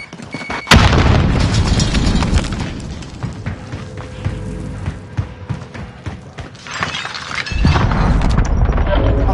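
A grenade detonates in a PS4 shooter with a sharp, loud boom and shattering debris. Clattering mechanical noise and another heavy thud follow.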